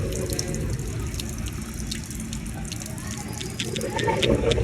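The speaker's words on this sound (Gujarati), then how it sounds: "પાણીની ચકડું ચાલુ મૂકીને જતું રહ્યું છે" A drinking-water tap left running inside a train coach, a steady close splashing rush of water that continues without a break.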